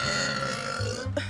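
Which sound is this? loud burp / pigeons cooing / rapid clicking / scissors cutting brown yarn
loud burp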